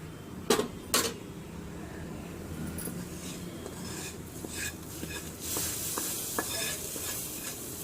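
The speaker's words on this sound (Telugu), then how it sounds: "ఇప్పుడు దీన్ని తీసుకొని ఒకసారి కలుపుకోవాలి." Spoon stirring a sizzling tempering into mango dal in a pan, with crackling frying texture throughout, two sharp metallic clanks near the start and lighter scraping taps later, close and moderately loud.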